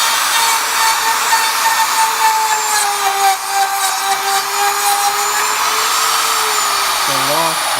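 A Northfield Industries door machine routes out a door with a sustained high whine and gritty cutting hiss, loud and close, pitch sagging slightly under load and shifting as it winds down at the end.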